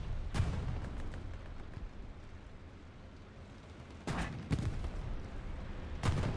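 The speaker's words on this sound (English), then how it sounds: "That is a bombing run, but where?" A bombing run in the World War II shooter Hell Let Loose on the Carentan map, a low rumbling barrage with several sharp distant blasts, one early and a cluster near the end, under a constant battlefield roar.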